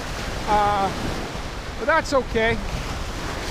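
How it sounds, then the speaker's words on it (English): Steady gusty wind of about 20 miles an hour roars across the microphone throughout on Georgian Bay rocks, with a person speaking briefly over the blustery noise. "Yeah, it's windy."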